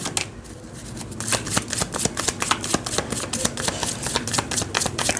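A deck of tarot cards being shuffled close by, with rapid crisp riffling flicks and slaps repeating in quick bursts, loud and alone without speech.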